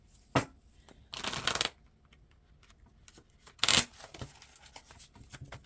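A tarot deck shuffled in several short riffling bursts separated by pauses, close and fairly loud, with a faint rustle between them and no talking.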